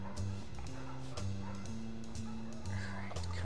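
A large dog in the Family Guy video game gives repeated short barks and yips in a rhythmic pattern over steady game music, with a player talking intermittently.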